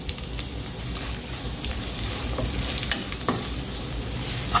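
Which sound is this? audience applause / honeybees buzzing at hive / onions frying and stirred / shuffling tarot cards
onions frying and stirred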